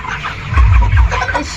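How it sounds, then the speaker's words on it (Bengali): Poultry farm holding about three thousand chickens, a dense close chorus of clucking hens with low footstep thumps underneath. "সবগুলো মুরগি দেখাবো তিন হাজার মুরগি কত মুরগি"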